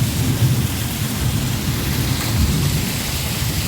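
Heavy rain pours steadily in a monsoon downpour that has flooded the street, with low rumbling thunder rolling underneath; loud, continuous and close, no voices.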